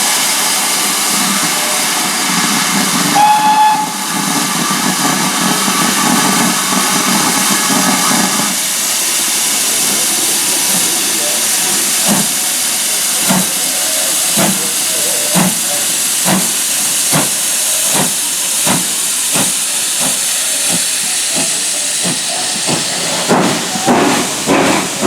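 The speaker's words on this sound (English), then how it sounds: "we're still having fun with the steam trains" Steam locomotives at the Severn Valley Railway on a wet day: a loud continuous hiss of escaping steam, a brief high whistle early on, then a run of sharp rhythmic clanks and chuffs toward the end.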